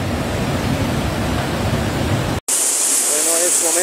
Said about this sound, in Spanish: se ha venido el río Alcamayo. Se ha desbordado, ¿no? Prácticamente como un huaico.